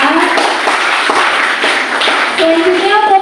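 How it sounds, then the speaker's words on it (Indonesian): Audience applause for a guest speaker at a university workshop, a steady wash of clapping lasting the whole moment, with a voice speaking briefly over it near the end. "Tepuk tangan untuk narasumber kita."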